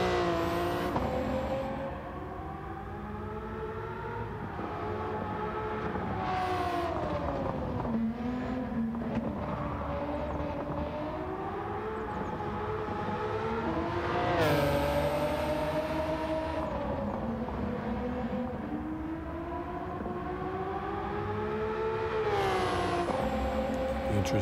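A Nissan R32 GT-R Nismo races in Gran Turismo 7, its engine droning steadily with rising and falling pitch through gear changes, punctuated by sharp upshifts and high revving bursts, loud and continuous throughout.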